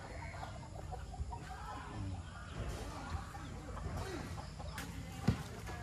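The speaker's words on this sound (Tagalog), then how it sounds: "Meron silang pabo at saka mga gansa." Turkeys and geese call and cluck at a resort in Tupi, South Cotabato, mixed with busy background chatter, with a sharp louder squawk near the end.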